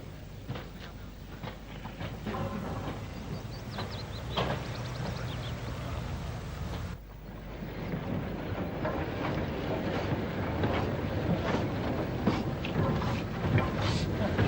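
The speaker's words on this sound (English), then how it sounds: "49407, one of the early locos from the first batch built by the LNWR, is at work at the Midland Yard in Wolverhampton." Early LNWR-built locomotive 49407 works in the Midland Yard at Wolverhampton, a steady distant rumble of engine and rolling stock under wind noise, with a brief dip midway before the sound swells again.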